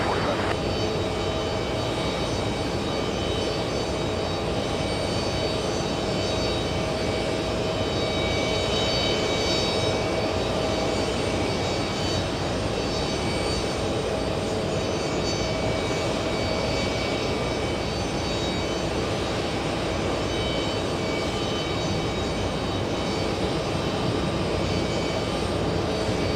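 A Delta jet roars down runway 4 left at JFK on takeoff, a loud continuous engine rumble and whine holding steady from start to finish.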